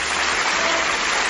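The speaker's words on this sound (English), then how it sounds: "Give him a round of applause!" Studio audience on a game show bursts into steady, dense applause that holds at full strength without a break, loud and close throughout the whole moment.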